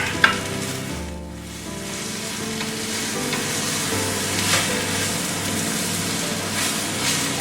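Frico, a cheese crisp cooking with a teaspoon of oil in a frying pan, sizzles steadily and loudly, with a brief scrape as it is turned partway through.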